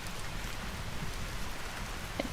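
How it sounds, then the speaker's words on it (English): Steady rain hisses evenly across the whole moment in the Vintage Story game world, a soft continuous wash with no other sounds standing out. "Oh my gosh, the rain. It really do be raining."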